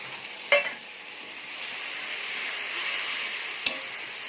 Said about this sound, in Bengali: এবার এটা একটু কষানো হোক